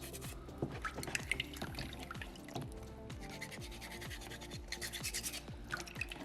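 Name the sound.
sandpaper sanding soapstone orca carving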